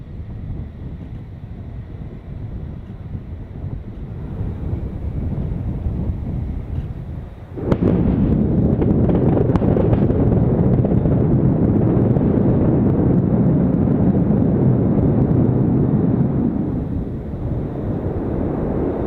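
A steady rushing roar of deluge water, then at about eight seconds the deeper, louder rumbling blast of a SpaceX Starship Booster 15 static fire joins in and holds steady before easing slightly near the end.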